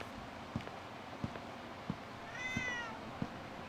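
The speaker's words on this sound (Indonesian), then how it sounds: "Ada bunyi kucing." In a horror video game, a cat gives one brief meow midway through, faint against a low ambient hum and a slow, regular series of soft thuds like footsteps.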